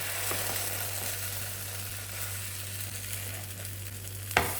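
Masala pathiri frying in a pan with oil, a steady soft sizzle running throughout and one brief sharp scrape near the end as it is flipped, no voices.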